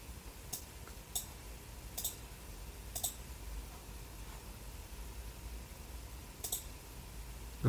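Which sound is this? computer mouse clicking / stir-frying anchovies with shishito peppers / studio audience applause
computer mouse clicking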